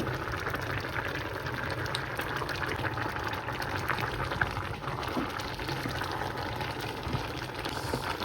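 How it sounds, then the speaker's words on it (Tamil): Tripe curry simmering in a covered pot, giving a steady, continuous bubbling and hissing boil that stays even and close throughout with no voices. "இப்போ இது கொதிச்சு கொண்டு இருக்குது"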